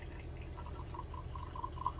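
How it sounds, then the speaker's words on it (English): Snoop Dogg's Indoggo gin, a clear liquid, poured into a glass: a quiet, steady trickle with small drip-like splashes under a low room hum. "let's go ahead and pour us about an ounce"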